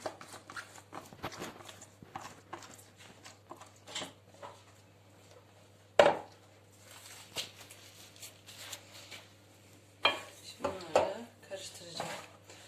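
Utensils clatter and scrape against a bowl mixing chopped lettuce, onion and cucumber for kisir salad in scattered bursts, with occasional louder clinks over a quiet room hum.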